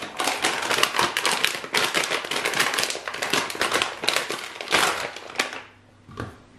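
Dense, rapid crinkling and crackling of a plastic bag being opened, loud and close, stopping abruptly near the end with one last rustle, while unpacking a tactical holster and magazine pouch.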